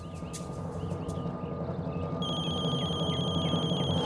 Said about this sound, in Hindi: हाँ योगिता, तुमने फोन किया था?